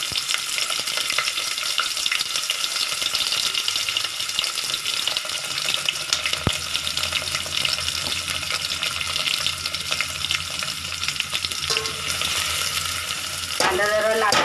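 Onion and curry leaves frying in hot oil for a prawn curry, a steady loud sizzle filling the whole stretch, with a brief scrape of stirring near the end and no talk.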